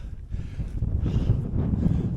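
Wind gusts across an open fell ridge on Wild Boar Fell in the Yorkshire Dales, a steady low buffeting roar against the microphone with no voices.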